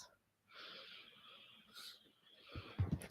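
A person seated in a comfortable chair takes a few slow breaths, a faint airy wheezing exhale followed by a soft inhale, very close and quiet, ending in a brief low rustle.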